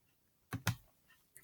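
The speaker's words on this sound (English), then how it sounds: "clicking on the PDF" Two sharp mouse clicks close together on a PDF document, near and crisp, then a faint tick and another quick click after a short quiet gap.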